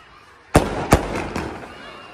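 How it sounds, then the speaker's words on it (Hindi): Firecrackers set off from a rooftop during an Eid moon-sighting celebration go off outdoors: two sharp bangs and a fainter third, each with a rolling echo. "खुशी में चांद ये पटाखे फोड़े जा रहे हैं भाई"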